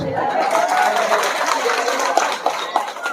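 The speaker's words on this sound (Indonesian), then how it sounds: "tepuk tangan dulu" Audience at a large outdoor religious gathering applauds on cue, a broad wash of clapping from many people with crowd murmur and a voice partly over it, a few sharper claps standing out toward the end.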